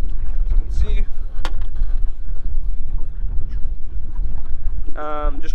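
A boat trolls slowly along a lake shoreline in strong wind, with a low rumble and heavy wind buffeting the microphone throughout and a few brief creaks or clanks.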